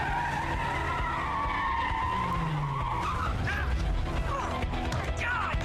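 Car tires skid and screech during a car chase in the video game Quantum Break, loud and sustained over a steady engine roar, with brief squeals rising near the end and some voices underneath.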